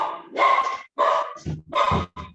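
A small dog barks several times in quick irregular bursts, close and loud, with short gaps between yaps and a slight whimpering edge.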